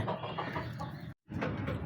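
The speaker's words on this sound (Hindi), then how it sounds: "लाखा मुर्गा जी हमारा, लाखा माशाल्लाह" A rooster clucks while pecking quickly at food, soft bursts of clucking over a dense, rustling background, broken by one brief moment of silence.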